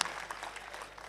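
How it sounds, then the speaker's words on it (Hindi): Live audience applause at a Hindi poetry recital, a soft, dense wash of many hands clapping at a distance that stays steady and fairly faint throughout, with no voices over it. "अब जरा सा तालियां बजा दीजिए सारे लोग मिलकर, ताकि मनिका शुरू हो जाए।"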